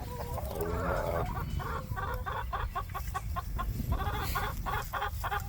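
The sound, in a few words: chickens clucking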